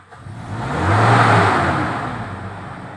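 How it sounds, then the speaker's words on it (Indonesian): A 2016 Toyota Innova automatic idling around 900 rpm takes a single press of the throttle, swelling slowly into a loud rev and easing back down toward idle, close up with no talk. "Oke, di idling di 900. Dan kita coba gas."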